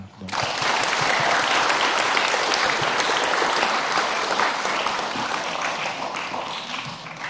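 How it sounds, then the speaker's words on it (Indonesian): A crowd claps together to celebrate a woman's 87th birthday during Pope Francis's visit, a loud, dense, continuous roar of applause that swells quickly and holds steady to the end. "Marilah kita merayakan ulang tahunnya secara bersama-sama. Tepuk tangan."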